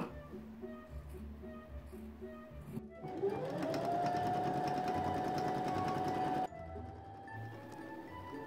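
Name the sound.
sewing machine stitching a wool hood onto a red capelet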